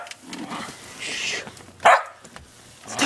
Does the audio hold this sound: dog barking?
yes